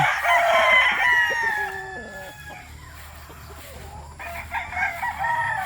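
A breeder rooster crows once, loud and close, with a long falling call, followed by softer clucking and farmyard noise.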